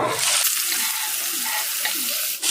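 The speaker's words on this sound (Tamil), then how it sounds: "நம்ம சேர்த்துக்கிட்ட அந்த வெங்காயம் ஆயிலில் வதங்கி பொன்னிறமாக வரணும்" Steady sizzle of onions frying in oil, with a hissing, crackling texture, stirred now and then, fairly close and continuous.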